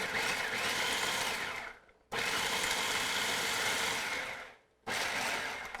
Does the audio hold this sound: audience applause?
no